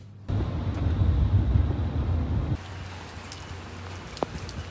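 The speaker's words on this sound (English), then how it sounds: "it's still raining out there" Rain falls steadily outside, a dense close hiss that drops abruptly to a softer patter after about two seconds, with an occasional single drip standing out.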